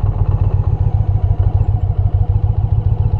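An Indian Challenger motorcycle pulls away on the clutch alone with no throttle, its engine giving a loud, close, low rhythmic chugging thump at steady idle speed throughout, with no talking.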